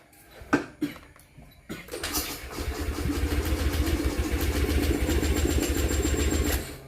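A 2020 Honda Beat scooter with an oil-spraying fault is kicked over a few times with sharp thumps, then its engine catches and settles into a loud, steady idle that runs to the end.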